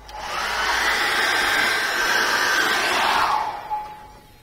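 Hair dryer blowing on a wet paint layer of a mountain painting, a close, steady roar that starts abruptly, holds for about three seconds, then cuts off with a brief fading whine.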